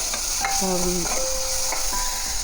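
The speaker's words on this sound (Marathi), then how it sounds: "मसाले चांगले तेलात परतवून घेतल्यानंतर टोमॅटो ॲड करून घेऊया" Tomatoes frying in hot oil with sautéed spices for a potato and green pea dry curry, a steady close sizzle with scraping stirs and a few brief tonal utensil clinks.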